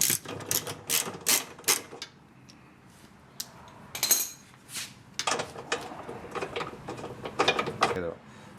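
Screws holding the transmission of a Kenmore Whirlpool washer are loosened with a tool, giving close, intermittent metallic clicks and ratcheting bursts with quiet pauses between them.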